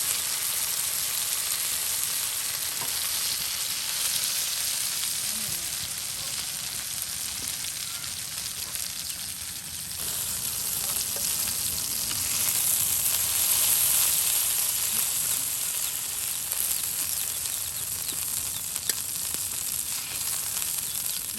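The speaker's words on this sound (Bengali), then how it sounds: "ভালো করে মচমচে ভেজে নেওয়া হচ্ছে" Large whole fish deep frying until crisp in hot oil for a village iftar in Mymensingh, giving a loud, steady, dense sizzle that runs unbroken throughout with no voices.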